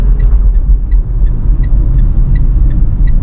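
A 2012 Mitsubishi Pajero Sport Dakar pulling away from a standstill, its engine giving a steady low rumble from inside the cabin with faint ticking on top, loud and continuous with no talk.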